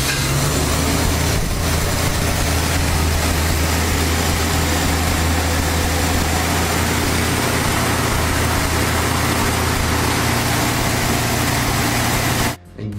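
Ford Maverick inline-six engine running continuously with a loud, steady, low rumble that cuts off abruptly at the end, with no talking.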